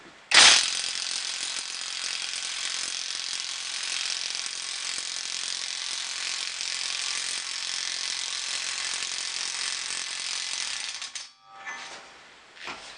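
A ratchet fitted with a deep socket turns the nut on a front wheel bearing press for a 2003 Nissan Altima, giving a steady, loud, continuous run of close pawl clicks for about eleven seconds before stopping abruptly.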